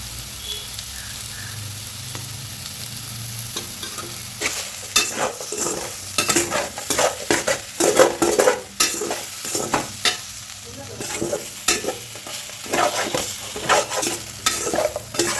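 Sliced plantain stirred and frying in a pan with turmeric and chili powder, a steady sizzle under repeated scraping strokes of a spoon that grow busier and louder as it goes on, no voices.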